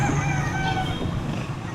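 Chickens for sale at a market in Batangas, with faint clucking and fowl calls over a steady, busy market hum for under two seconds.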